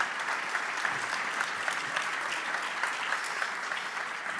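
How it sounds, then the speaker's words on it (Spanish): Audience at a gala giving a warm round of applause, steady dense clapping from many hands at moderate distance, alone without talk. "recibamos con un fuerte aplauso"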